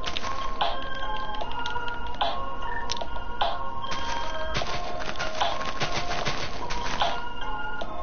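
A chicken crows repeatedly outdoors, loud and close, with several overlapping calls and clucks over a steady background.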